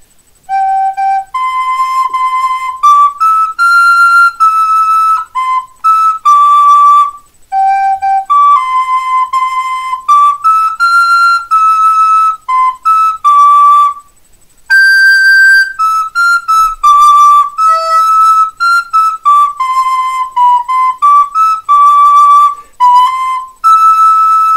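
A caval, recorder or Romanian fluier flute plays a folk carol melody in clear, sustained notes with short breaths between phrases, loud and alone without any voices.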